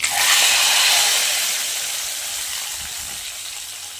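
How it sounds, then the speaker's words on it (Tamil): Mustard seeds and curry leaves sizzle in hot oil as a tempering for a drumstick and raw mango curry, a loud, bright hiss that flares at the start and slowly fades, heard alone with no talking. "கடுகு பொரிஞ்சாச்சு கருவேப்பிலை போட்டுக்கலாம்"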